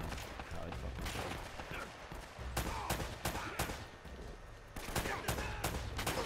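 Repeated bursts of automatic gunfire from the video game Uncharted: Drake's Fortune, sharp and loud, coming in clustered volleys with short gaps between them.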